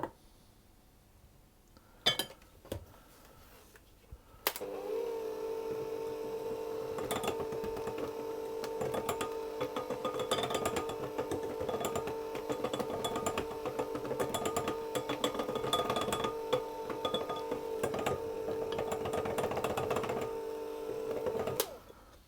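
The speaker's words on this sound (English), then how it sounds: "just mix it on a low speed until I've got it combined" An electric mixer runs on low speed through lemon and vanilla cake batter, a steady mechanical whir that starts after a couple of sharp clinks and continues evenly, with frequent light tapping and rattling from the bowl; no voices.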